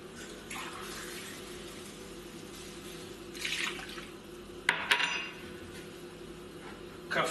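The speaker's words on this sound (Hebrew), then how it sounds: "שתי כוסות של מים" Water running from a kitchen tap into a vessel while preparing a potato filling for blintzes, a soft steady trickle with a few louder splashes and clinks of a container, no talking.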